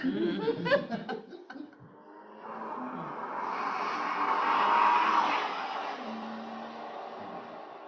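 A race car engine revs and roars from laptop speakers, a thin, steady vroom that swells and fades over several seconds, following brief laughter and chatter in a meeting room.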